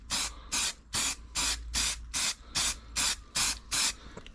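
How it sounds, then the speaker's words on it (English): Etch primer hisses from an aerosol can in about ten short, even bursts, roughly every half second, close and loud, with quiet gaps between the sprays as parts are coated in a workshop. "clean them up and gonna give them a little etch prime first"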